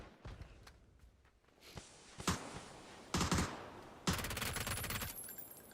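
Automatic P90 gunfire from PUBG, several sharp single shots followed by two loud sustained bursts near the end, with no one talking.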